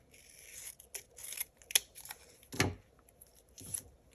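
Scissors trim planner sticker paper in several quick snips, crisp close blade clicks and paper rustles spaced irregularly, fairly quiet with no speech.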